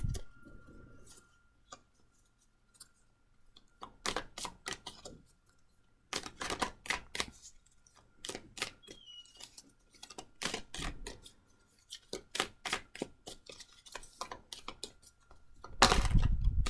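Tarot cards are shuffled and drawn nearby in scattered clusters of soft crisp flicks and taps separated by quiet gaps, ending with a louder thump of handling.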